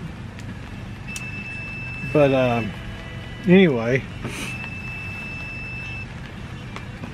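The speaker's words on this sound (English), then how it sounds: "if you're hearing that beeping, that is my wife messaging me back on Zillow" A phone chimes with a series of notification beeps as a message arrives, repeated in two clear bursts, sounding fairly close over a steady background hum, with someone speaking briefly.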